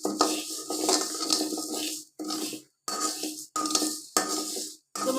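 Dal being dry-roasted in a pan over medium heat, stirred in short bursts of scraping and clinking from a spatula against the metal, separated by brief silent gaps.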